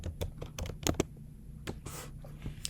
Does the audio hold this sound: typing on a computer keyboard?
yes